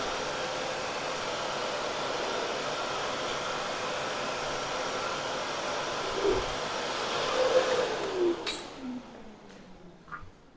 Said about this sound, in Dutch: Ik heb zo'n gele stofzuiger